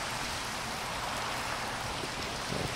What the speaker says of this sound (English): can this rain shut up?